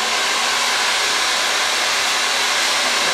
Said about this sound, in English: And then we're gonna take the blow dryer.